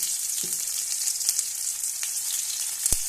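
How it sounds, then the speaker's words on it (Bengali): Dried red chilli sizzling in hot oil as a tempering for a leafy greens dish: a steady, bright crackling hiss close up, with a few sharp pops and spatters scattered through it and no talking. "এবার ওই তেলের মধ্যে শুকনো লঙ্কা দিয়ে দিয়েছি"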